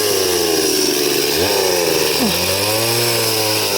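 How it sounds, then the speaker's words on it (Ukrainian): A chainsaw runs loud and close while cutting trees in woodland for firewood and broom-making, holding a steady roar with a brief rev change midway. "Йдемо далі різати. Ось так робимо лісоповал."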